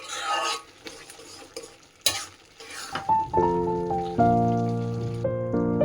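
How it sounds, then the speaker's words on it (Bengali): Pav bread rolls frying in a pan for pav bhaji, with scraping and stirring clatter of a utensil against the pan and a sizzle, followed by a tonal hum or music in the background. "তো এবার পাওগুলো ভেজে নেব"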